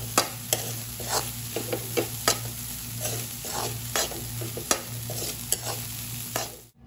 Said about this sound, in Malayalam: ഇനി ഇവിടെ കറിവേപ്പില കൂടെ ഇട്ട് ഇളക്കി കൊടുക്കാം.